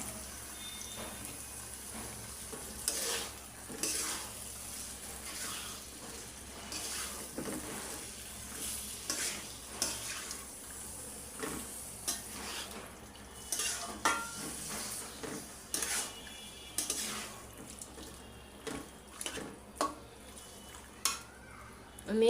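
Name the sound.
beef liver and potatoes frying and being stirred in oil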